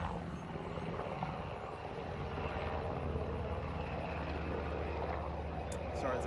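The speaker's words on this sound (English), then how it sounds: "Sorry, it's a helicopter." A helicopter drones steadily overhead, a continuous broad engine and rotor rumble that stays moderately loud throughout, outdoors with no clear speech.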